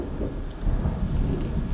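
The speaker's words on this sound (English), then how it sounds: "it's thundering right now." Thunder rumbles low and steady during a rainstorm, a deep rolling swell that grows slightly louder, with no talk over it.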